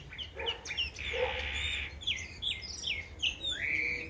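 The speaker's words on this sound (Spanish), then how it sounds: "Esos pájaros están aquí porque yo les doy semillas." Wild birds sing after being fed seeds, with a run of bright chirps and trilling calls close by over a steady low background hum.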